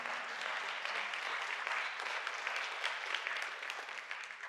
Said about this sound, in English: let's give the Lord a hand clap offering